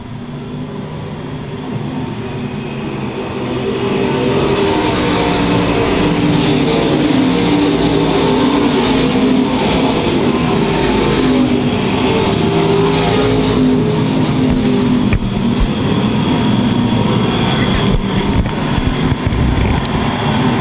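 Modified stock cars in a USRA A and B Mods Grand Nationals A Main race roar around a track, a loud sustained engine drone building early and holding steady as the pack passes.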